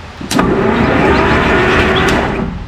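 A starter motor on a 1951 Plymouth with a locked-up engine, fed 12 volts directly, cranks in one sustained whirring burst, loud and close, with brief clicks at the start and near the end.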